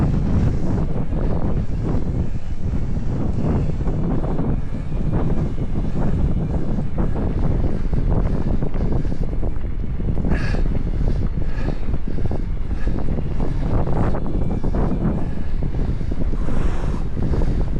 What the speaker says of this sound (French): Ça monte, je suis en plein vent.